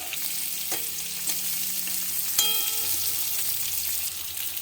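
Potatoes fry in hot oil with asafoetida and chopped ginger, a steady loud sizzle throughout with a few clinks from stirring, no talking.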